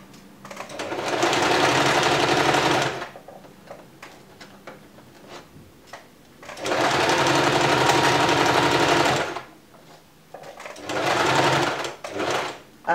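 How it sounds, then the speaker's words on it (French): A sewing machine runs in three bursts of steady whirring stitches with short pauses between, stitching a seam and going back over it in reverse to lock the stitches, close and clear with no talk. "c'est la marche arrière qui va consolider la couture"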